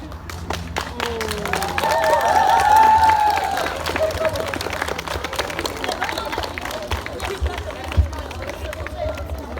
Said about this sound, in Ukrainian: Давайте ще раз привітаємо бурхливими оплесками наших випускників